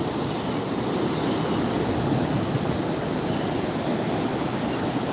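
Ocean waves roll in a steady, continuous wash of broadband surf noise, even and unbroken from start to finish, with no voices over it.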